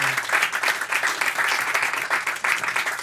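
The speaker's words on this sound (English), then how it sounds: "give him a nice round of applause" A studio audience applauds a singer after a song on a talk show, with steady, fairly close clapping throughout.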